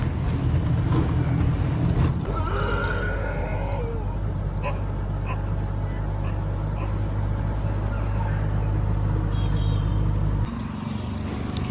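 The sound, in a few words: auto rickshaw ride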